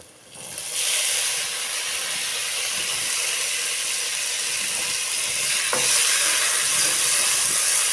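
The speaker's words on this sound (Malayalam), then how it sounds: "ആ ഉപ്പ് ഇട്ടതിന് ശേഷം നമുക്ക് ഒന്നുകൂടി മിക്സ് ചെയ്യണം കേട്ടോ" Biryani masala fries in a pan with a steady close sizzle and hiss, while a spoon scrapes and stirs through it in uneven strokes.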